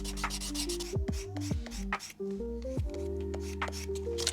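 A leather edge is rubbed with 180 grit sandpaper in steady, close scratchy strokes, with a faint background tone underneath.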